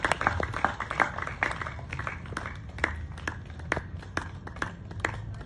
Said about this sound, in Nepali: देवीजीको स्वागत अभिनन्दन गर्दिनका लागि पुष्पगुच्छाले जोरदार ताली बजाइदिनु होला देवीजीको स्वागतका लागि